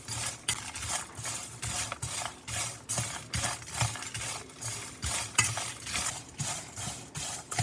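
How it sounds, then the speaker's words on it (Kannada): Peanuts roast in a pan over low heat while being stirred, giving a rhythmic train of dry scraping and rattling strokes, close and steady throughout. "ಉರಿ ಕಡಿಮೆ ಇಟ್ಕೊಂಡು ಚಲೋ ತಂಗ ಹುರ್ಕೋಬೇಕು."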